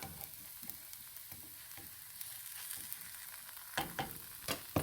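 A Desi-style spicy pancake fries quietly in a pan, a soft sizzle broken by several sharp clicks and scrapes of a spatula, louder toward the end.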